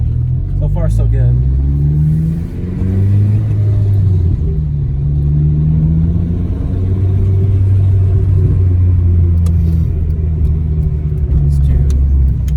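Acura RSX with a newly installed front bumper drives along a road, its engine humming and rising through gears in a close, steady in-cabin rumble, with a person talking over it.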